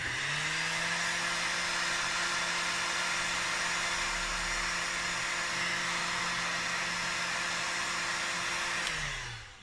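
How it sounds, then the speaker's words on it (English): A heat gun runs steadily to shrink adhesive heat-shrink tubing, giving a loud, continuous close-up blowing whir with a steady hum that stays constant and then cuts off at the end. "we could just heat these up with a heat gun"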